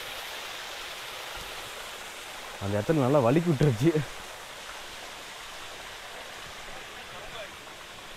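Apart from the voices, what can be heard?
Maharajakadai Mathi waterfall flowing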